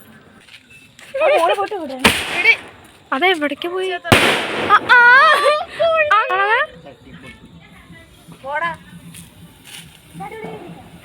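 Two sharp firecracker bangs burst out a couple of seconds apart during a night-time celebration, amid lively nearby conversation.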